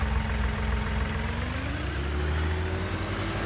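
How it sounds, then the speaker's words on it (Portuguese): Tractor engine working under heavy load in Farming Simulator 19, a steady low rumbling drone with a slowly shifting pitch, continuous and close with no talk. "Trator."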